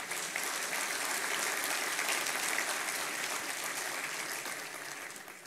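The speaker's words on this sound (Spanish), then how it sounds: "Un fuerte aplauso para todos en conjunto" Audience applause at the opening of the Third International Conference on Mathematical Modelling, a steady wash of many hands clapping at fairly low level for about five seconds, tapering slightly at the end.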